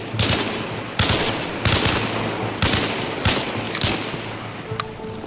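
Bursts of automatic gunfire during a forest firefight in the video game Arma Reforger, loud repeated volleys and rapid single shots recurring across the stretch with short gaps between them.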